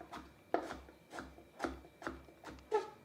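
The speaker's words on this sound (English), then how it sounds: "lastly, I'm chopping the cauliflower" Knife chopping cauliflower on a cutting board, six evenly spaced soft thuds with a light crunch at roughly half-second intervals, close and fairly quiet, with no talking.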